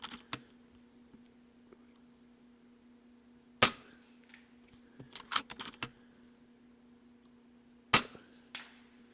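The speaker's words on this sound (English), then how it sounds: "I'm shooting at 100 yards right now" Airgun fired at a target 100 yards away during practice for the Rocky Mountain Airgun Challenge: two sharp, loud cracks several seconds apart, each followed by faint clicks of handling, over a steady low hum and no talk.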